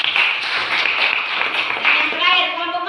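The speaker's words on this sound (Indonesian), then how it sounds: "Ya, bagus, tepuk tangan" Students in a seventh-grade classroom clap in praise of a correct answer, a quick burst of many hands mixed with children's voices, loud and close, with a voice emerging toward the end.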